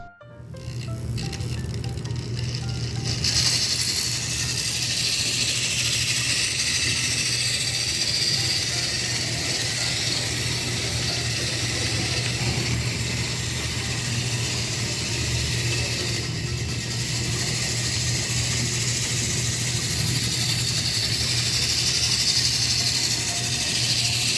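A model train locomotive running on its track, giving a steady, continuous mechanical rattle and whir of small gears that holds even throughout, close by with no talking.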